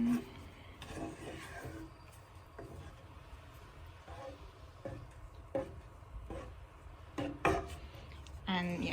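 Crushed and whole tomatoes are stirred into a lentil curry, quiet scraping and wet clicks of a spoon against the pot in irregular strokes, faint and close.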